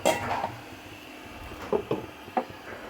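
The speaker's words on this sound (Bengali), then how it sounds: "আমি এটা ঢেকে দেব" A lid is set over a pan of rohu fish curry with green chillies, giving a few short metallic clinks and taps near the start and again a couple of times later, close and fairly faint.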